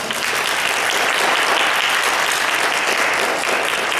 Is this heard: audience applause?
yes